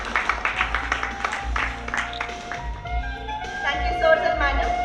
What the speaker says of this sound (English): A big round of applause for CGM sir